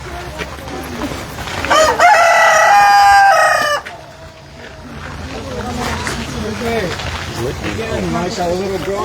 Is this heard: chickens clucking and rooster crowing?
yes